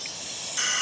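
Brake cleaner sprayed onto a Johnson 25 hp outboard motor, a close aerosol hiss that jumps louder partway through and keeps going without a break.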